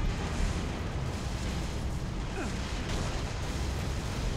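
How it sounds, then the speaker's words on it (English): A tank blowing apart in the Halo: Reach campaign, a heavy rumbling explosion that stays broad and loud, with debris and distant combat noise behind it. "My tank is absolutely obliterated."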